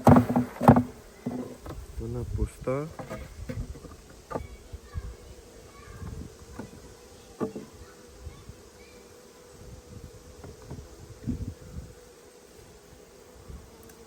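A steady buzz of many honeybees hums beneath sporadic thumps and knocks as a hive frame is shaken during an autumn colony inspection, with a voice speaking briefly near the start.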